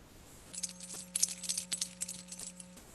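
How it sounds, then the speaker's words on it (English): A ring of many keys jangling in a percussion workshop, a steady metallic shimmer of clinking with irregular bright jingles over about two and a half seconds, fairly close, with a low steady hum underneath. "I'm going to sample this sound. The keys, like my dad's keys."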